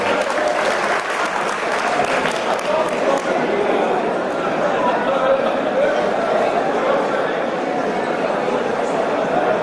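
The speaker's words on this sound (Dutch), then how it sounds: "En natuurlijk ook even sportief applaus voor zijn tegenstander Didier Zaalman." Sustained applause from an audience at a match, steady and fairly loud for the whole stretch, with some crowd chatter and voices mixed underneath.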